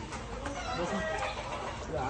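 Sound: chickens clucking

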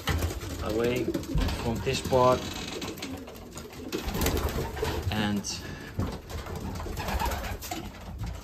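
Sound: racing pigeons cooing in loft

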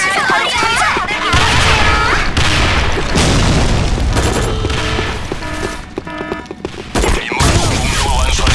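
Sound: grenade explosions and gunfire in Sudden Attack video game

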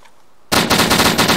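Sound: gunfire from the video game DayZ

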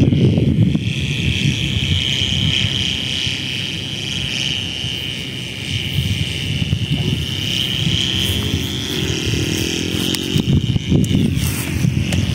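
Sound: giant kite humming in strong wind like an airplane

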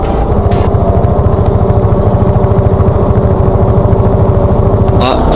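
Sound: Suzuki Address V100 two-stroke scooter engine climbing mountain pass

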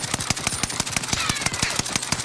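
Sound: BAR rifle firing repeatedly in Warzone video game

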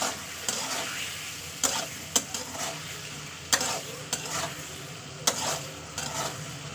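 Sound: stir-frying ginger garlic paste in oil

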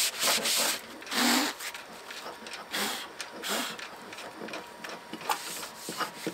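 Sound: sanding boat hull with sanding pad

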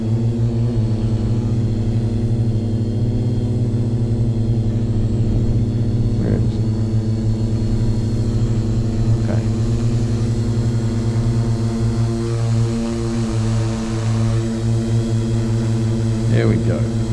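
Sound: Redback Spider drone motors hovering

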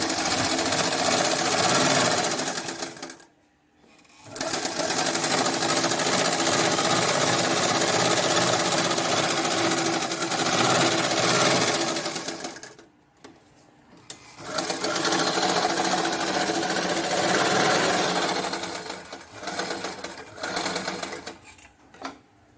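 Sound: sewing machine stitching a blouse

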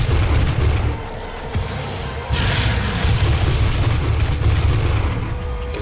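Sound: gunshots in the video game DOOM

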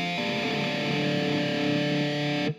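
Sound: electric guitar with distortion

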